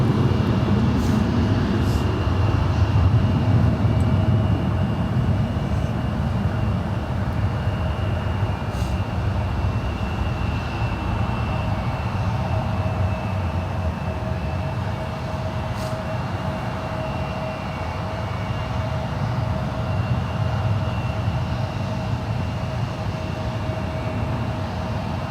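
A Virgin airliner rolling for takeoff on runway 28 at San Francisco International Airport, a steady distant jet engine roar with a faint whine that swells slightly and then eases.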